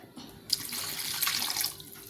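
Water runs steadily into a pot of green gram lentils for a kootu, a close, continuous splashing pour lasting about a second and a half before it tapers off, with no talk over it.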